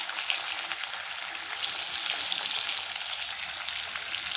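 Cut potatoes frying in oil in a pan for a Bengali fish and greens dish, a steady, even sizzle with no talking over it.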